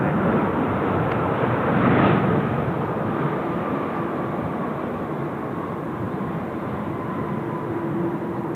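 A Cathay Pacific cargo jet rolls for takeoff on runway 16 left at Seoul Incheon Airport, a steady broad engine roar that stays loud and even throughout, with a slight swell early on.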